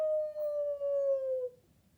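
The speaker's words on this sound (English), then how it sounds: "That's a wolf howling." A single wolf's howl holds one long, steady, slightly falling note that trails off into quiet, clear and close, with no voices.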